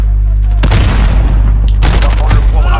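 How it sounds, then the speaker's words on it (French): A grenade bursts in Call of Duty Modern Warfare with a loud, deep boom, followed by a rumbling roar and a second heavy blast over the constant low drone of battle. "Grenade lancée!"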